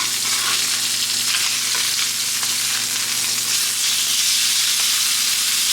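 A Japanese A5 Wagyu steak sears in a hot pan, giving loud, continuous close-up sizzling and crackling frying with a steady hiss and no talk.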